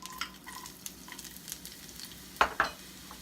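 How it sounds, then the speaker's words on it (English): Onion dropped into shimmering hot oil in a pan for an omelet with ham, giving a low steady frying hiss with a few brief sharp clatters near the end; no talking. "Now, I'm going to add some onion."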